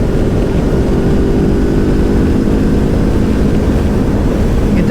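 An Aprilia Tuono V4 1100 Factory motorcycle engine roars loud and close at a bike meet, a dense, steady low rumble with wind buffeting, sustained without pause.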